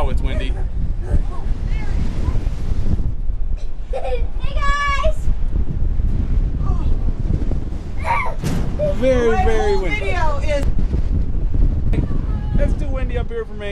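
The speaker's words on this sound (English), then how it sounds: "Very windy. It's too windy up here for me." Strong wind roars and buffets the microphone outdoors in a constant low rumble while people talk over it.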